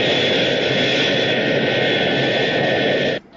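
Steady broadband roar of a jet airliner on final approach to land, loud and close, holding level for about three seconds before cutting off abruptly.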